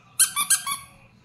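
A squeaky mouse toy for a Pekingese dog gives four quick sharp high squeaks in a short burst, close and clear in a quiet room.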